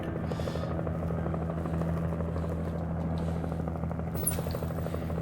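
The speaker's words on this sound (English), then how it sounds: "having support of an helicopter with a huge light like this feels like it would be an interesting change of pace" Helicopter in the Alan Wake Remastered video game, a steady thrumming rotor drone held at an even loudness throughout, close and continuous with no talk over it.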